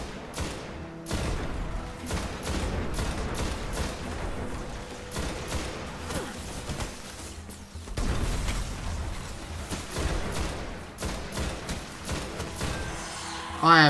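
Scout rifle gunfire in the video game Destiny, a steady run of sharp, close shots at an irregular pace with brief pauses, layered with game effects and voices throughout.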